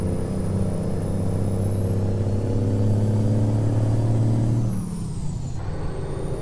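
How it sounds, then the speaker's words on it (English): A heavy truck engine drones steadily in the American Truck Simulator game, with a high turbo whine climbing in pitch and then cutting off as the engine note drops. "especially when that turbo kicks in, it sounds really good"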